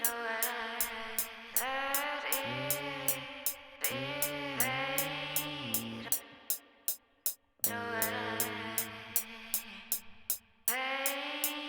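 Chopped breakbeat in an ambient jungle track made in FL Studio, with rapid crisp drum hits stuttering in a fast rhythm over tonal pad chords, sometimes dropping out briefly before restarting.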